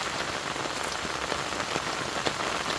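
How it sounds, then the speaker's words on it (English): Heavy rain pours onto an ultralight ONEWIND Cape Shelter tarp during a thunderstorm, a dense continuous patter of drops drumming on the fabric close overhead, with no voices. "right before this rain kicked in."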